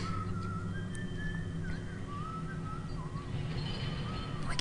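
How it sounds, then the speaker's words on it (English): A melodic whistled tune drifts through BioShock Infinite: Burial at Sea, rising and falling in short phrases over a steady low ambient hum, moderately distant and with no talk over it. "Oh, I can hear whistling."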